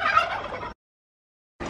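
Turkeys gobble in a short burst of rattling calls, loud and close, then fall silent before another call begins at the very end.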